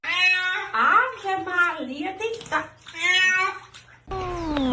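A kitten meowing repeatedly up close with several drawn-out, rising and falling cries, loud and insistent, with a person talking at the end while running water is heard.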